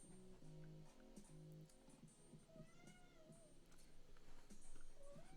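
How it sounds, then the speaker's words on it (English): Hungry pet cats meowing softly, a few drawn-out wavering cries over a faint indoor background hum, distant and quiet. "My cats are hungry."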